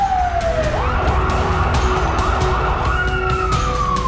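A medium-sized fire rescue truck of the Surabaya fire and rescue department runs its siren, a loud, continuous wail that dips and then sweeps upward in repeated rising and falling cycles over steady traffic rumble.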